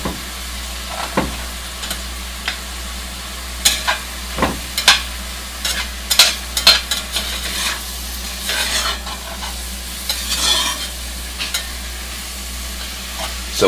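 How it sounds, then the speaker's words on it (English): Onions and mushrooms fry for beef stroganoff in a pan, with a loud, close, continuous sizzle broken by irregular scraping clicks of stirring. "I'm going to cook this until the onions are translucent and the mushrooms have wilted."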